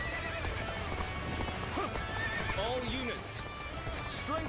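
Horse hooves clip-clop at a gallop and a horse neighs and whinnies repeatedly in a Dynasty Warriors-style video game, loud and continuous amid battle noise and game voices.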